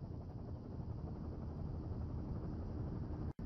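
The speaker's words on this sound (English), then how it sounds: "There's the helicopter." A helicopter flying in the video game Firewatch, a steady low rumbling rotor drone at moderate distance, fairly quiet and continuous throughout with no talking.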